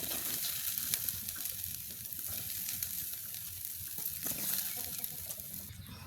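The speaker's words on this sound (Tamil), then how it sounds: "இப்போ பார்த்தீங்கன்னா நல்லபடியாக நாங்கள் தான் கிண்டுவோம்" Ingredients fry in a pan at an outdoor family New Year cooking gathering, a faint steady sizzle with scraping stirs under ambient background noise, birds calling now and then.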